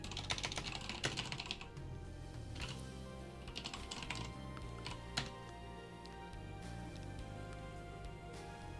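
Keys clatter on a computer keyboard at a mainframe office terminal running OfficeVision/VM, quick bursts of close, light tapping broken by short pauses, with occasional single sharper keystrokes.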